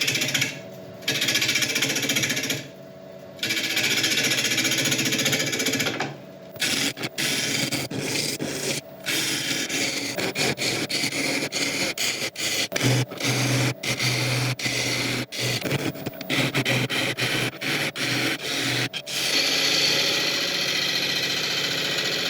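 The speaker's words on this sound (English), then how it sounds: "We can start hollowing this out at about 950 RPM" An ancient, very hard oak bowl blank is being hollowed on a wood lathe at about 950 RPM, giving a loud, continuous grinding rumble with rapid rhythmic chatter that breaks off briefly several times as the tool is lifted.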